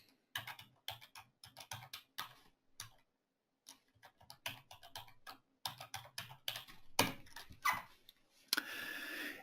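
Rapid clicking of computer keyboard keys in bursts, with a short pause partway through and a louder rustle at the end.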